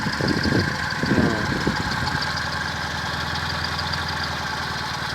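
A repaired Fiat Cinquecento 704 cc engine idles steadily and close, with an even, continuous rumble and a slightly rougher patch at the start.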